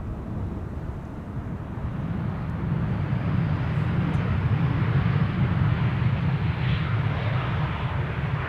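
An arriving EasyJet airliner at Amsterdam Schiphol Airport gives off a steady, broad jet engine roar that swells slightly and holds loud and close throughout, with no talk.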